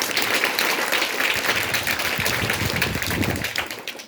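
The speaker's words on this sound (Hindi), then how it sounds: "फिर एक बार लेजिम पथक के लिए जोर से तालियां होनी चाहिए" A crowd applauds a lezim dance troupe at a school Hindi Day event, steadily for several seconds, with dense, even clapping that tapers off at the end.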